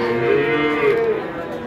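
A Limousin cross bull calf moos at a busy cattle market, one long drawn-out low call lasting over a second, close and loud, then trailing off into a quieter background.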